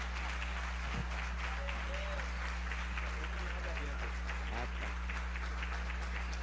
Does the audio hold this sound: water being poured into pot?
no